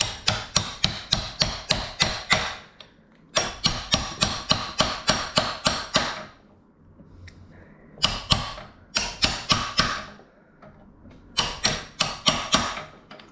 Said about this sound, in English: and just tap it in